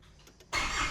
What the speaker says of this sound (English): Just gonna give it one like quick rev